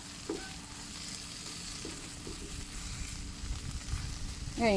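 Fresh shrimp stir-fried with holy basil in a pan, a steady close sizzle with repeated scraping and tossing strokes of the spatula, growing a little louder toward the end.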